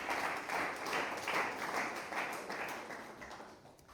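A church congregation claps along in a steady rhythm, a moderately faint mass of hand claps that holds for several seconds and tapers slightly toward the end.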